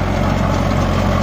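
A Sonalika DI 35 tractor engine running a 7-foot rotavator, producing a loud, steady diesel drone close by.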